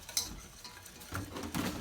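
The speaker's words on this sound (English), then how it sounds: "Keep stirring, keep stirring. Get that milk in there." A spoon stirs milk into thickening gravy in a pan, giving faint scraping and clinking against the metal with a soft sizzle underneath, quiet and close, in short uneven strokes.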